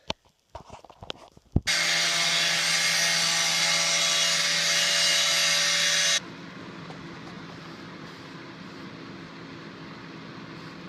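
A power tool cuts sheet metal for a small battery box on a mini chopper build. After a few light clanks, a loud, harsh, whining grind holds steady for about four seconds, then drops to a lower mechanical hum.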